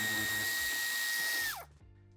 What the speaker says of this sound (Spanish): Y quitamos el tornillo.